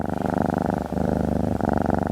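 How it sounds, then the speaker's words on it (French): Loud, steady purring sound effect from a huge furry beast in a comedic horror tabletop role-play, a rhythmic rumbling cycle with one brief break, heard alone. "Et le ronronnement se fait plus fort."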